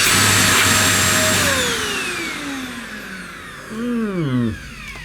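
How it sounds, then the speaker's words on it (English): A One Concept Pila bagless vacuum cleaner runs with a harsh high whine, then its motor pitch sweeps downward as it powers off, briefly revving again before stopping. "Not a very pleasant sounding vacuum, is it?"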